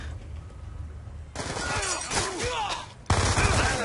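Gunfire in a Call of Duty: Black Ops 2 match, where a quiet stretch gives way to loud, close bursts of shotgun and automatic weapon fire that stop briefly and then resume sharply.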